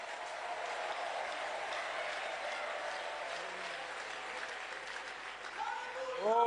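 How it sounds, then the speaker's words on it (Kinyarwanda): Congregation clapping during a church service, a continuous soft patter of many hands at moderate distance, with a voice rising over it near the end. "Reka twongere tuyikomere amashyi tuyishimire."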